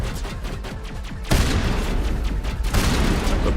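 Shotgun blasts ring out in Mass Effect Legendary Edition: a fast series of booming shots, then two heavier, sustained bursts of loud gunfire with a rumbling tail, close and dominant.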